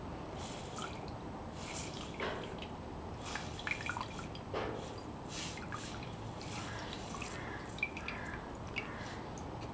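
A small gold nugget is rinsed with water, with soft trickling, dripping and sloshing of liquid, close and faint, continuing steadily for several seconds without speech.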